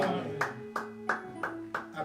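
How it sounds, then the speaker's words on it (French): A church congregation claps hands together in a steady rhythm, about five even claps spread across the moment, with sustained music or voices carrying beneath them. "clap your hand for the Lord"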